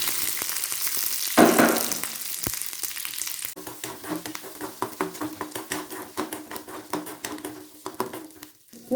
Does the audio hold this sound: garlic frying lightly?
yes